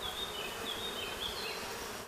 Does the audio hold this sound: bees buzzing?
yes